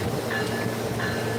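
A train rumbles past with a steady low roar and faint metallic squeals, heard continuously and fairly close.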